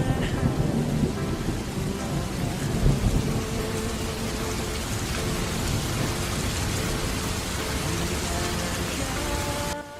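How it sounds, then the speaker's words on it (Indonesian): Steady heavy rain pours without a break, with low rolling thunder rumbling through it, loud and close throughout and no voices. "Kenapa harus hujan sih?"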